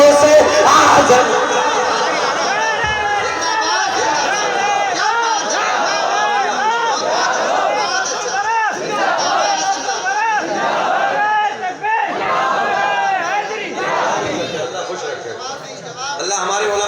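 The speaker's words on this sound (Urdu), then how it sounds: "دیکھنا چاہتا ہوں مجمع سے کتنے نعرے لگیں گے" A large crowd at a religious gathering chanting slogans in unison, loud and rhythmic call-and-response waves of many voices that rise and fall over several seconds.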